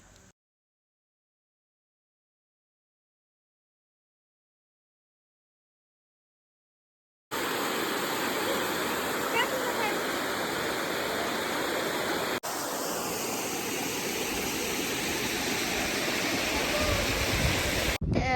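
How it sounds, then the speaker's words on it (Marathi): After a long silence, a steady, dense roar of a large waterfall at Sautada comes in abruptly and continues loud and unbroken to the end. "धबधबा कोसळायला सुरुवात झाली की पहाटेच्या वेळी दोन किलोमीटर अंतरापर्यंत जमिनीचा कंप आणि धबधब्याचा आवाज ऐकायला येतो"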